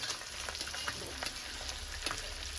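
Chopped onions with fresh coriander fry in a pan, giving a steady, close crackling sizzle with small pops throughout and no voices.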